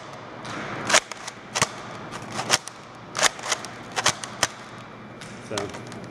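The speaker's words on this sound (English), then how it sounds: "rack it back to cock it, leave it in this idle state, and then you just press it forward to fire" Replica Mass Effect MasterKey launcher prop being cocked and fired, a series of sharp mechanical clacks and snaps spaced irregularly over a quiet room, with faint voices in the background.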